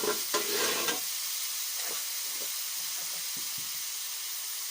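Whole, uncut mushrooms hit a hot pan with a brief loud burst of sizzling, then settle into a steady frying hiss broken by a few soft stirring scrapes.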